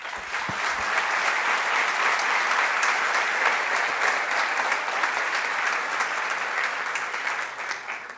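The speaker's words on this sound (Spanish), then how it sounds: "Yo quiero un aplauso para ellos." An audience claps throughout at a speech during a Naturgas 2015 event, a dense, sustained round of applause that holds strong for several seconds before thinning slightly at the end.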